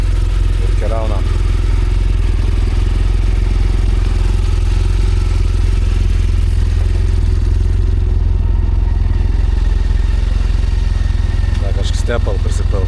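A motorcycle engine runs steadily near at hand as riders prepare to set off in the rain on a trip from Lithuania toward Scotland's NC500, a constant low rumble throughout with faint clatter toward the end.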